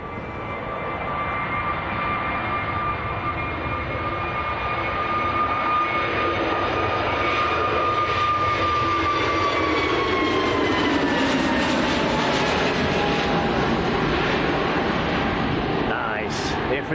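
A Pegasus Airbus A321neo jet airliner bound for Istanbul at Manchester Airport, giving a sustained engine roar with a whining tone that slowly drops in pitch as it passes, while people talk faintly under it.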